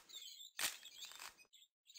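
Chirps from birds in the video game Quadrilateral Cowboy come in two short bursts, bright and fairly close, with a brief gap of silence between them.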